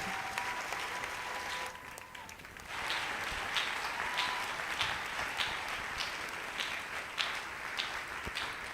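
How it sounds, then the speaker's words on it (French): A church congregation applauds steadily throughout as a pastor is welcomed, dense clapping with a brief dip partway through, then louder again with scattered sharper claps. "Sous vos acclamations, nous recevons le pasteur Serge Ndala."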